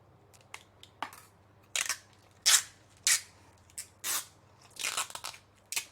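A dental retainer being trimmed out of its mould, a series of sharp close crunching and snipping cuts in irregular bursts over a faint low hum, no speech.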